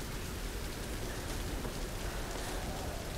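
Steady rain pours down over a campsite in the video game Tomb Raider, a dense, even hiss of drops on surfaces that runs on without pause and with no voices.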